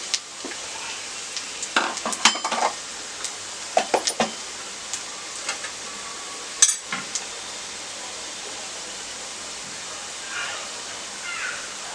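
Sliced garlic and ginger paste fry in a pan with a soft, steady sizzle, broken by scattered scrapes and clinks as a spatula stirs against the metal.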